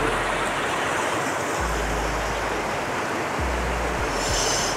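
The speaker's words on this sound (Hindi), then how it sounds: "तो वाटरफॉल है छोटा सा।" A small waterfall at a hill garden viewpoint gives a steady, dense rush of falling water, continuous and fairly close, with some low rumbling underneath.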